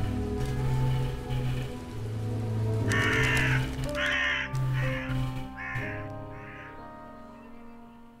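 A raven in the horror game The Raven gives a run of harsh caws against a rainy night backdrop with a low sustained drone, the calls repeating in a steady sequence.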